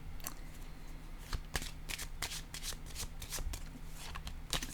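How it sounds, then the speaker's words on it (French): Tarot cards being shuffled by hand, a run of crisp riffling rustles and flicks repeating in quick irregular bursts, close and clear with no talk over them. "Je vais déposer maintenant une carte sur la justice."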